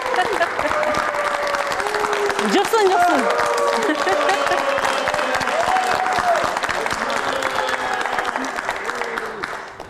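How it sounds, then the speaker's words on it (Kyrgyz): An audience claps and applauds loudly and steadily, a dense wash of hand claps lasting the whole stretch, with people talking over the clapping. "Кол чаап коюңуздар"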